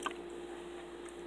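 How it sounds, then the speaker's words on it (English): Quick, soft squish and drip of water soaking into a makeup sponge (beauty blender) from a water bottle, faint and close up in a quiet room. "I take my beauty blender and I wet it like so."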